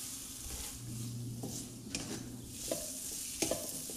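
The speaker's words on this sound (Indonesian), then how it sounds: "Kemudian ini kita tumis sampai harum dan minyaknya keluar." Spice paste with galangal, bay leaves, lime leaves and bruised lemongrass is sautéed in oil, a quiet continuous sizzle with a few spoon scrapes and light knocks against the pan, no voice.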